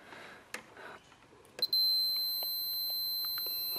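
A Fluke multimeter gives a steady continuity beep while checking a throttle body ground on a 2006 Mazda 3 SP23, preceded by a few quiet clicks and taps, then one sustained tone held nearby.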